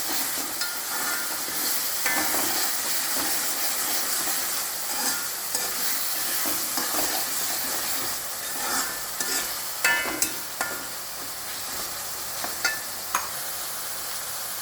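Continuous sizzling with scraping strokes of a spoon stirring Kerala-style onion theeyal curry with roasted ground coconut and tamarind in a pan, a few sharper clinks toward the end, no voices.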